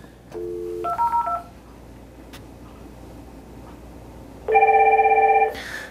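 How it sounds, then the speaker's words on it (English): AddPac IP phone dialing extension 2002 on an Asterisk PBX: a quick run of short DTMF keypad tones, a quiet pause, then a loud sustained ringing tone, close and with no talking. "Dial extension 2002."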